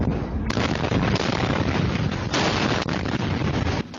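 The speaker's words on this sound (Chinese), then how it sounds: "連續爆炸聲撼動4區圍，連監視器鏡頭也咧搖晃" A chain of chemical explosions at night near a waste-oil lot in Annan District, Tainan, caught on a security camera: heavy rumbling blasts and booms roll on without a break, loud and distorted, with sharper hits standing out.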